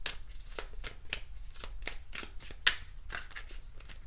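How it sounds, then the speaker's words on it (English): Fortune cookie cards are riffled and drawn from a deck in a quick run of crisp, papery flicks and shuffles, close and fairly soft, with one sharper snap near the end. "Let's also draw for you a fortune cookie card."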